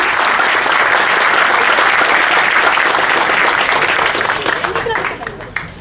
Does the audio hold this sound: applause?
yes